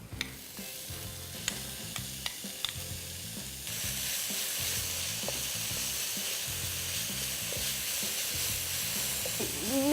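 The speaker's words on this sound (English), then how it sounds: "I'm going to add in minced beef" Minced beef fries in a pan, sizzling softly at first with a few sharp clicks and taps, then swelling into a steadier, fuller hiss that rises slightly toward the end, with soft music underneath.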